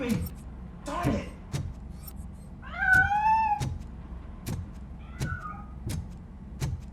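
A cat in RoboCop: Rogue City meows repeatedly while escaping, two drawn-out rising calls among sharp regular thumping footsteps, close and moderately loud.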